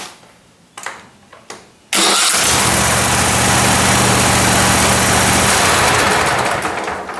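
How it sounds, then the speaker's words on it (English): A Cub Cadet mower engine fitted with a new starter: a few clicks and knocks, then a sharp catch as the small engine fires and settles into a loud, steady, close idle that fades slightly toward the end. "now we have changed the starter, and now watch what happens when we start it"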